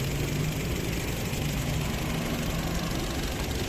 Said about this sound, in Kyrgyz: Чөткү от алып турат мотору